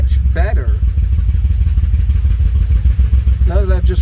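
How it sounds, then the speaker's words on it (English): A 1981 DeLorean engine idles loudly and steadily with a slight hunt in its rumble, while someone speaks briefly over it at the start and again near the end. "the engine idles much better"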